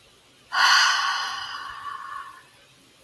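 One long, deep guided inhale through the nose, starting abruptly and loud and close, then tapering gradually over about two seconds into quiet, with no talking.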